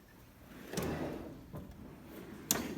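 A metal toolbox drawer holding pliers and vice grips rolls open or shut in a garage setting: a rumbling slide with a clunk, then a second sharp knock a couple of seconds later, close and alone.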